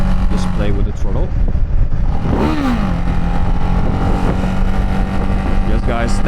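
Ducati Hypermotard 698 motorcycle with standard exhaust, engine running loud and close under wind rush at road speed, throttle blips rising and falling as it cruises around 80 to 100 km/h, with a rider's voice over it.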